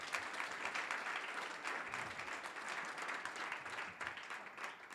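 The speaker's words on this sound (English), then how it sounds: "Please applaud our participants." Audience applause for panel participants at an investor-focused event, a continuous, fairly distant patter of many hands clapping at an even level.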